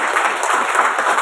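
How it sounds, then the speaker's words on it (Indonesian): Audience applause at a church retreat gathering, a short continuous wash of crowd clapping, fairly loud and steady. "Tepuk tangan buat Tuhan."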